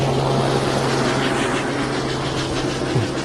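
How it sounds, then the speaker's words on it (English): A helicopter swoops low overhead while tracking rally cars on a special stage of the PZM 76th Rally Poland, a steady, loud rotor and engine roar that fills the whole stretch with a broad, rushing wash. "You see the helicopter tracking the cars and it's swooping over the top."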